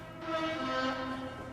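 A train in the video game Factorio sounds its horn, a loud sustained harmonic tone that swells in and holds steadily for over a second without talk.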